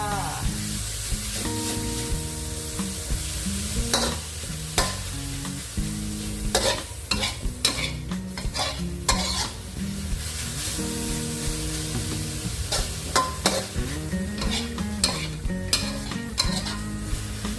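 Pork sizzles and fries in a wok with a little water while a utensil scrapes and clatters against it in repeated stirring strokes, close and busy.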